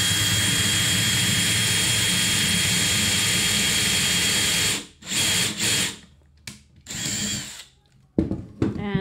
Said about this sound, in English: And the drill bit is nice. It comes with a nice sharp point to help you